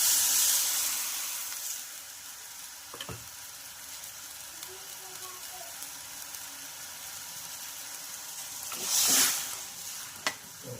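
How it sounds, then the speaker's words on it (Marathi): Homemade bottle gourd soup poured into a pan of fried spices, raising a soft steady sizzle with stirring scrapes and two brief louder hissing bursts near the start and end. "तर यामध्ये आपण आता जे आपण सूप बनवलेलं होतं ते घालूया।"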